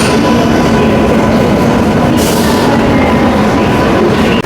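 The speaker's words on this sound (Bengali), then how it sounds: "সাঁতরাগাছি থেকে পুনে যাওয়ার জন্য হামসাফার এক্সপ্রেস 6 নম্বরে দিয়েছে।" Loud, steady rumble of the Santragachi–Pune Humsafar Express at a station platform, with a continuous roar and faint rhythmic clatter of wheels.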